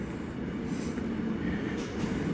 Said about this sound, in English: This is the train right here.